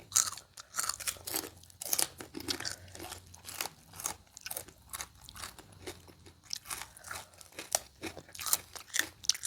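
Crisp, close crunching of someone chewing a spicy crispy squid salad, repeated bites and chews in an irregular rhythm with no talking.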